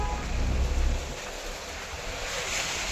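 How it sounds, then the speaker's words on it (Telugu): Heavy rain roars over Hyderabad with water standing on the roads, a steady, dense wash of noise, with a louder rumble of wind in the first second before it evens out. "మనం చూస్తున్నాం భారీ వర్షం కురుస్తుంది"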